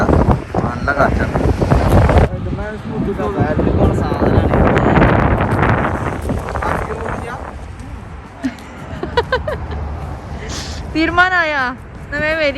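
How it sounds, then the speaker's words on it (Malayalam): Strong wind buffets the microphone outdoors in Madha, Oman, a loud continuous roar with gusty surges that eases in the second half while someone talks over it. "കാറ്റ് രക്ഷയില്ല, നല്ല കാറ്റാണ്."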